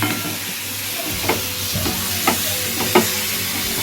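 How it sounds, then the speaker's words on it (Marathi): Mushi fish fries in hot oil with a loud, close, continuous sizzle, marked by three or four sharp spatula scrapes and taps against the pan. "मस्त मुशी फ्राय करून घेऊ तेलामध्ये हो"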